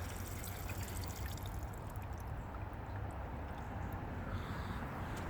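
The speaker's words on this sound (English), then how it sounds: "Watch how quick the water drains out of this one." Steady rushing, trickling water draining from a new VW Beetle's sunroof drain, a constant wash of noise with no pauses and no voices.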